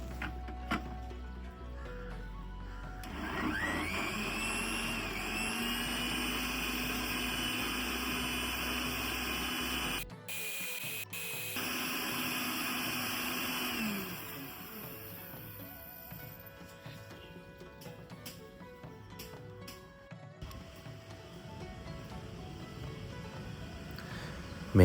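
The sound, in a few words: mixer grinder blending mango shake with ice cream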